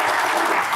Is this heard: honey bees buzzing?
no